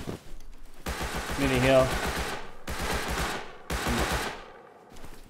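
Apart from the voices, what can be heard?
gunfire in a survival video game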